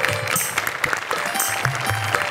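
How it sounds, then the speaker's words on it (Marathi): A comedy show audience breaks into applause, with brisk, continuous clapping that fills the room. Faint voices and stage sounds mix in beneath it. "टाळ्या वाजवा. आनंदाचा क्षण आहे हा."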